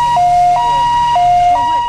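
An ambulance siren wails in a loud two-tone pattern, alternating high and low notes in a steady rhythm, close by and continuous, with no talking.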